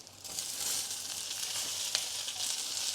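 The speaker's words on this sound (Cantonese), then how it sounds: "而家係爆香緊啦，咁我哋咧就落埋啲葱落去啦" Scallions sizzling in hot oil in a wok for a durian chicken pot, with a steady, bright frying hiss and faint stirring clinks throughout.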